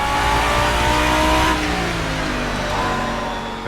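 A GT3 race car in Assetto Corsa, driven at Castle Combe, with its engine roaring loud and close under acceleration, pitch climbing through the gears with brief shift dips.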